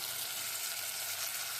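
Freshly ground whole tomato poured into a hot pan of fried onion and fennel seed tempering sizzles loudly and steadily up close, a dense crackling hiss with no talking.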